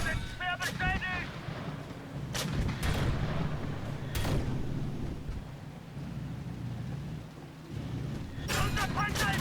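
Tank combat in a video game as the tank takes hits: heavy booming impacts and gunfire blasts strike at irregular intervals over a low rumbling engine drone, with a voice speaking in German between hits.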